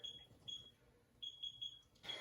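A workout timer beeps in short high electronic tones, two single beeps then a quick run of three and one more, faint against a quiet room.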